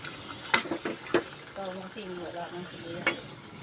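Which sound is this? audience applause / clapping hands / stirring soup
stirring soup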